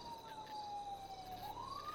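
A police siren wails in a law-enforcement role-play video game, one clear sustained tone sliding slowly down and then back up, fairly distant and faint over a soft insect-like background hum.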